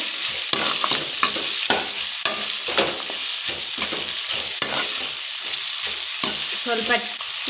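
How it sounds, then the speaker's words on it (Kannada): Tomato roasting in a hot pan gives a steady sizzle and crackle, broken by repeated stirring scrapes at a fairly even pace, close and clear with no talking. "ಟೊಮೊಟೊ ಹಂಗೆ ಚೆನ್ನಾಗಿ ರೋಸ್ಟ್ ಆಗಬೇಕು."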